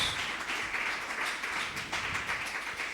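A church congregation claps and applauds in a steady, dense wash of many hands. The sound is moderately loud and continuous throughout, with no single clap standing out.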